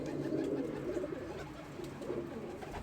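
Pigeons kept in a netted loft, just let out after a long time, give soft, low, burbling coos that overlap steadily without pause.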